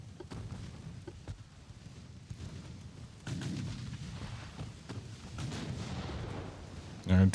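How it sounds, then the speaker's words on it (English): Naval gunfire from battleships and armored cruisers in an Ultimate Admiral: Dreadnoughts battle rumbles in repeated low booms, dull and moderately distant, with a louder burst near the end. "the battleships and armored cruisers seem to be completely ignoring each other and just shooting at the light ships"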